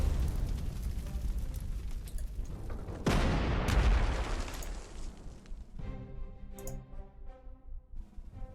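Heavy artillery fire rumbles in the Panzer Corps 2 strategy game: a dense, continuous roar of booming blasts with a sharp louder burst midway, then a thinner, ringing tail of rumbling echoes.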